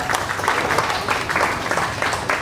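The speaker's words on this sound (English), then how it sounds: "Round of applause" An audience at a press conference during a 2015 character expo applauds a guest coming on stage, a steady burst of dense clapping that lasts the whole moment with no voices over it.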